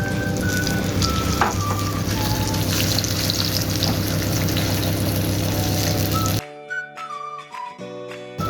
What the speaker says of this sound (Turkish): bu karışım üzerine de şu an rendelemiş olduğum iki domatesi ekliyorum